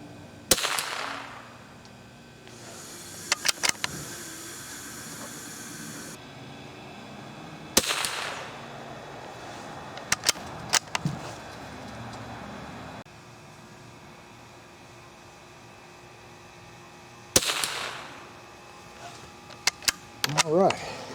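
Several sharp rifle reports from an old Remington .22 bolt-action with open sights at an outdoor range, sounding singly and spaced seconds apart, with people talking between shots.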